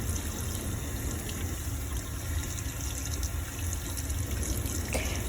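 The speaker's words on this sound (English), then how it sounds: "you can start to rinse your hands off in the water until you get all the soap off" Tap water runs steadily into a sink while hands are rinsed free of soap, making a close, continuous splashing hiss with small irregular splashes and no talking.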